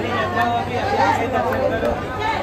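A dense crowd fills Mahakaleshwar temple in Ujjain with steady, close chatter and overlapping voices that never let up.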